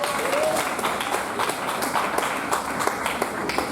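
A church congregation applauding together at a worship service, a dense patter of many hands clapping steadily throughout, fairly loud and close, with some voices mixed in.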